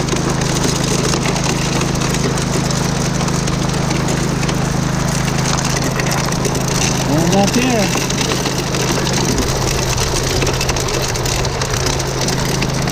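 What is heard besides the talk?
gravel going through a gold dredge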